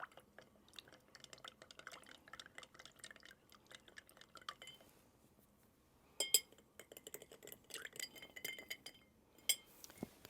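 A bar spoon stirs mezcal Negroni cocktails in glasses, producing soft irregular clinks and swirling liquid, quiet and close, with a few brighter glass taps near the end.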